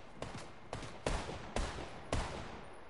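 Video game gunfire with shotguns and tactical SMGs: five loud, sharp blasts spaced about half a second apart, each ringing out briefly over a steady noisy background, with no voices.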